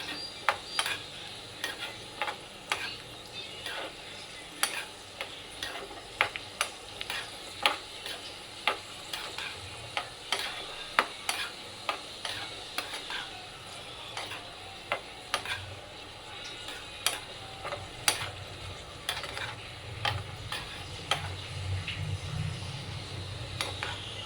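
Rava being dry-roasted and stirred in a pan for puttu, with soft scraping and irregular clicking strokes of the spoon over a faint low hiss, fairly quiet throughout.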